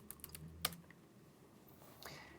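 Typing on a computer keyboard, a few light quick key clicks in a short burst followed by a couple of softer taps, faint and close with quiet room noise.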